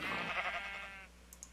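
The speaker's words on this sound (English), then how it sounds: "sheep, what the hell?" A sheep in a video game gives a single loud, wavering bleat lasting about a second, followed by a couple of faint clicks.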